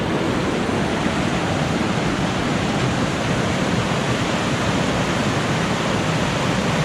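Steady, loud rush of a stream tumbling near a big waterfall on a New Caledonia hiking trail, a dense unbroken roar with no voices.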